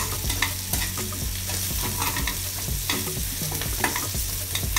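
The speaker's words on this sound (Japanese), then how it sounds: "加えて炒めていきます" Stir-frying pancetta with anchovy paste in a frying pan for a porcini tomato pasta, loud close sizzling throughout with frequent spatula scrapes and clicks against the pan.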